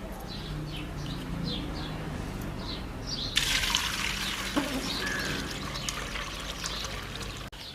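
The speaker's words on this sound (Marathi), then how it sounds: "ही पाणी काढून घेऊ आता" Water drains from freshly washed wheat held in an oiled sieve, a steady soft trickle that swells suddenly into a fuller, louder splashing flow partway through.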